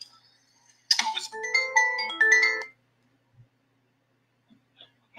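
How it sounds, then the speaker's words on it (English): A phone ringtone for an incoming call plays a short bright electronic melody of several tones, then fades into near silence broken by a few soft clicks. "I'm getting my phone call."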